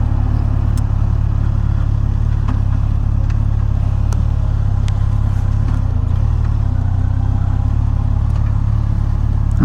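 A 2007 Yamaha FJR1300 motorcycle engine idles steadily close by, a constant low mechanical hum with faint clatter, and no voices are heard.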